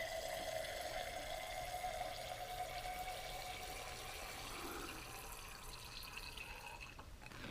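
Water running steadily into a container being filled to 30 milliliters while making a solution, a faint, even trickle close by with no talk.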